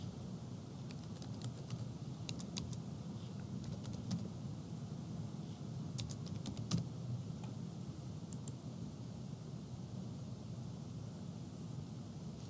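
A 14-digit library card number typed on a computer keyboard, faint scattered key clicks in small bursts over a low steady room hum, no voices.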